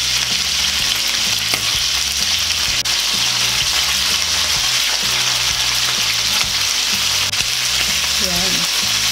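Tuna fish frying in a pan for kalderetang tuna, a loud, continuous hissing sizzle of hot oil close up, with occasional clinks and stirring under a steady hum.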